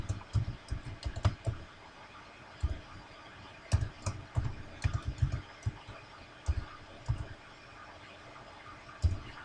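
Rapid clicking of a computer keyboard as a new file name is typed in Photoshop, coming in quick bursts with short pauses between them, close and fairly quiet with no talking.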